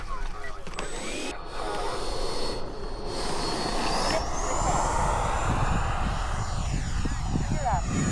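A Freewing F-22A Raptor 90mm RC electric ducted-fan jet flying at an RC field, a loud continuous whining roar that shifts in pitch as it passes, with a clear Doppler sweep near the end.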